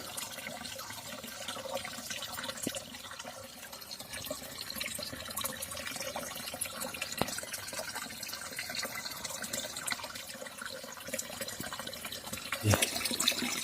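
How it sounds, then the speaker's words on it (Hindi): Spring water flows out from under a rock on a hillside in a mountain village, making a continuous splashing rush that stays steady throughout. "जमीन से निकलता हुआ पानी, और सीधा यहाँ से देखो"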